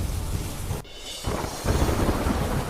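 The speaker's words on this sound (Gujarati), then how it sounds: "ગીર સોમનાથ પંથકમાં જોરદાર વરસાદ." Heavy monsoon rain pours down in the Gir Somnath region, with rumbling thunder, as a dense, loud, continuous roar close by; it breaks off sharply for a moment near the start, then resumes fuller, with no voices.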